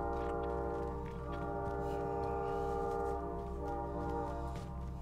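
A train in the video game Call of Duty: Warzone rumbles steadily with a sustained horn-like drone, loud and continuous throughout, close by.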